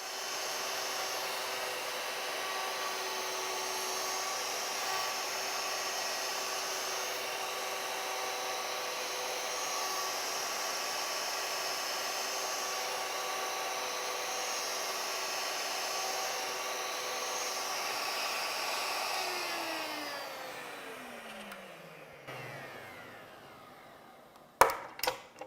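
A PantoRouter woodworking machine runs as it cuts wood, a steady high whine and hiss for about twenty seconds that winds down in a falling pitch, followed by a few sharp clunks near the end.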